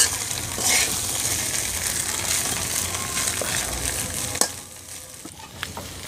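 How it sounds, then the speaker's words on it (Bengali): Soaked flattened rice is gently mixed with other ingredients in a hot pan, a sizzling hiss under soft scraping stirs, with a sharp spatula knock near the end. "আমি এখন চিড়ার সাথে সব উপকরণগুলো আলতো হাতে মিশিয়ে নিচ্ছি"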